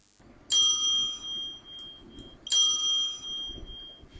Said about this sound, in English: The bell is rung twice.